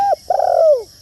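Spotted dove decoy bird giving a clear, close coo: a short note, a brief pause, then a longer drawn-out falling tone.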